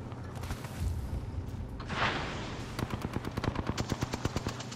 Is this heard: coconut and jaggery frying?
no